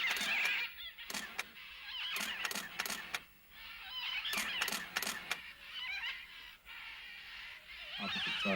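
Red and green macaws call in a rainforest, a series of harsh, raucous squawks in bursts, some overlapping, at moderate distance with a steady background hum.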